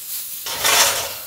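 A hot frying pan with roasted lamb loin gives a short burst of broadband sizzle and scraping metal pan noise in a restaurant kitchen, swelling after a quiet start and then fading slightly.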